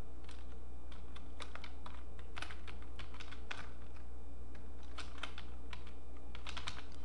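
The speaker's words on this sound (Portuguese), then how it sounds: "Vamos digitar." Computer keys clatter in quick, irregular bursts as text is entered in Adobe Fireworks CS4, quiet and close over a steady low electrical hum, with no voices.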